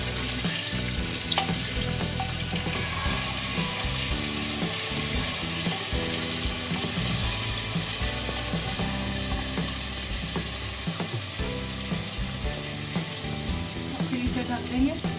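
Stuffed ridge gourd (tinde) frying on low heat, giving a steady, continuous sizzle with occasional clicks and faint background tones throughout.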